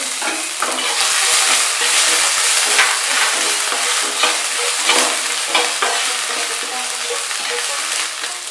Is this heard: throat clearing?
no